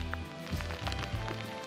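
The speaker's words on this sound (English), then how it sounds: "And I'm getting rained on right now." Steady rain pattering down around a hiker on a mountain trail in Rocky Mountain National Park, a dense close hiss of drops with footsteps and rustling underneath.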